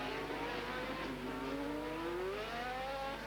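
A 1988 Formula 3000 race car at the Pau street circuit on throttle, its engine note rising steadily in pitch as it accelerates, heard at moderate distance over a constant background roar.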